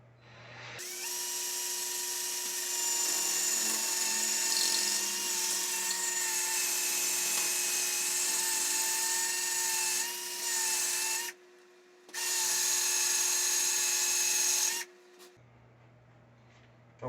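A power drill bores holes into a block wall for anchors, a loud sustained whine running steadily with one brief pause before stopping near the end.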